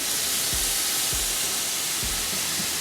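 Steady broadband hiss of a pot of water at a rolling boil for pasta, with a few soft low bubbling pops rising through it, close by.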